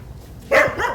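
A dog barks close by at a shop selling crayfish and aquatic plants, one sharp bark followed by a second, softer yelp within a second.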